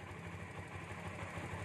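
A Kawasaki Barako motorcycle engine idles steadily just after starting, a low, even putter with a slight vibration, heard close and fairly quiet, with no talking.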